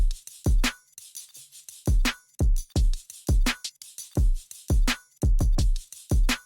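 A full drum pattern with booming kicks, sharp snare hits and ticking hi-hats, punchy and loud in a steady groove.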